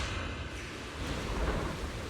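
Steady rain with a low rolling thunder rumble in the video game Sword Valley 2, a dense continuous wash of drops that swells slightly partway through, with no voices.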